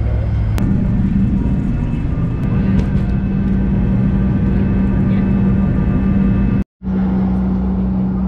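Fokker 100 airliner in flight to Brisbane, its engines giving a steady loud cabin rumble and drone with a constant low hum, broken briefly by one sudden cut-out near the end before resuming.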